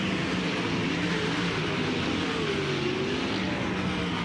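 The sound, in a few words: USAC sprint cars racing at Eldora Speedway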